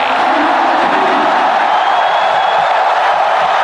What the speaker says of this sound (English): And listen to that crowd roar.